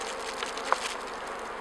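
Honeybees hum softly inside a small nucleus hive while a beekeeper inspects it during a queen replacement, a faint steady insect drone with one brief tap partway through.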